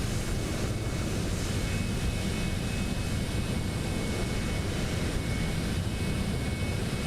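A steady, loud broadband roar of an aircraft on its takeoff roll in Microsoft Flight Simulator 2024, continuous and unbroken throughout with no voices.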